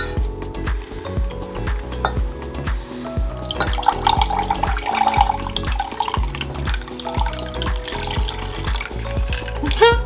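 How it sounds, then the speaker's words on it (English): Ice water is poured and stirred into a vinegar mixture for an apple pie crust, with splashing liquid and clinking, tapping utensil sounds in an irregular rhythm, fairly close and moderately loud. "Now we are going to top it with the ice water to 1 cup."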